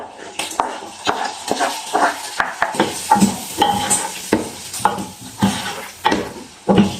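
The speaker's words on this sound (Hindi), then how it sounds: "2 से 3 मिनट के बाद प्याज डाल देंगे, उसके बाद टमाटर डाल देंगे।" Onions and tomatoes fry in a pan for daal mash as a spoon stirs and scrapes in close, steady strokes over a light sizzle, with occasional clinks of metal on the pan.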